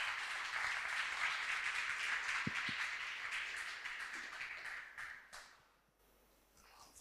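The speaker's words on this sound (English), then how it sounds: "A round of applause to Mr." An audience applauds at a trade agency demo day event, broad steady clapping from a room of people that gradually thins and fades out before a brief pause.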